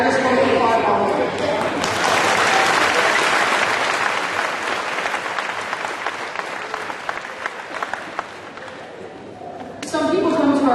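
An audience applauds at a high school graduation ceremony, loud sustained clapping that tapers off and then swells again near the end.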